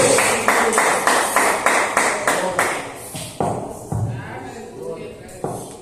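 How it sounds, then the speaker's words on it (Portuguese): Church congregation clapping during a service: a run of loud, evenly spaced rhythmic claps that then loosen into scattered slaps and thuds, with voices mixed in underneath. "Receba com palmas de alegre para Jesus."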